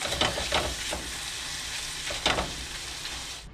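Ground chicken fries in a hot pan with a steady broadband sizzle, punctuated by a few brief louder bursts as the meat is stirred, close and continuous without any voices.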